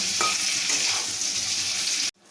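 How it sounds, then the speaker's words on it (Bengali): Large potato pieces fry in hot oil with a steady, dense sizzle and faint crackle that cuts off abruptly near the end, followed by brief quiet. "আলুটি ভাজতে তিন থেকে চার মিনিট সময় লাগবে"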